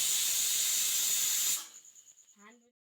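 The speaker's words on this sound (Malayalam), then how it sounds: "കുക്കറിനകത്ത് പരിപ്പ് വേവിക്കാനായിട്ട് വെച്ചിട്ടുണ്ട് അത് കൂക്കും നിലവിളിയൊക്കെ തുടങ്ങിയിട്ടുണ്ട്" A loud steady hiss of escaping steam from a pressure cooker cooking lentils cuts off abruptly, followed by a brief fading sputter as the pressure release dies away.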